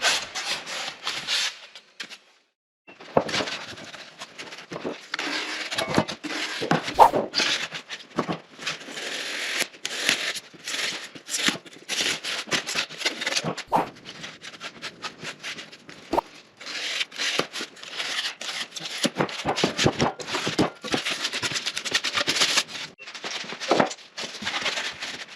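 XPS foam insulation board being cut by hand for a post-frame building, a long run of scratchy rasping and rubbing strokes, close and fairly loud, with brief pauses between passes.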